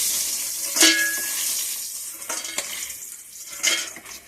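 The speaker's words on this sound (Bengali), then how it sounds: "ডালের বড়িগুলো ভাজা হয়ে গেছে এবার এটা উঠিয়ে নিচ্ছি" Fried lentil dumplings (bori) lifted out of a pan with a few scraping, clinking utensil strokes over a soft background sizzle, with brief gaps between the pickups.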